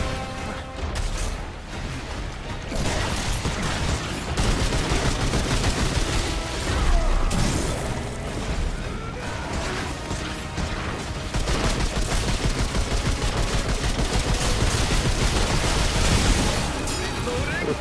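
Rapid gunfire in the video game Remnant 2, aimed at a boss in a veteran-difficulty Primogenitor fight, rattles steadily with dense bursts and booms for the whole stretch, mixed with game effects and some talk.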